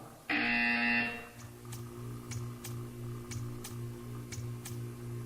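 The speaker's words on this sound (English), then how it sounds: "You will hear a buzzer." A loud electronic buzzer from the video game Portal 2 sounds for about a second, then falls quiet, leaving a faint steady hum with soft ticking clicks.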